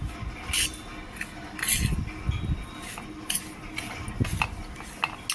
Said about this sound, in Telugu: ఉప్పు మెంతికారం బాగా మిక్స్ చేసుకోవాలి